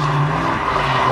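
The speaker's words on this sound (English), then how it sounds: "Getting it, second time drifting ever." Ford Mustang drifting with its tires squealing loudly and continuously over a strained engine tone, close and sustained throughout.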